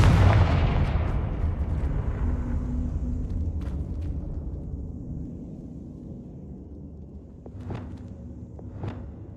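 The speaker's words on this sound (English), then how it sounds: "Confringo." A Confringo fire spell in Hogwarts Legacy on PS5 bursts with a loud booming explosion at the start, its rumble decaying over several seconds, followed by a couple of fainter sharp impacts near the end.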